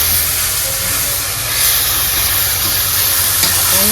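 Potatoes go into hot fried spices for a fish curry, producing a loud, continuous hissing sizzle with occasional stirring scrapes up close; no talking.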